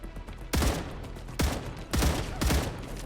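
Gunfire in the video game Star Rupture, four sharp, loud bursts at uneven intervals, each crack ringing out over a low background hum.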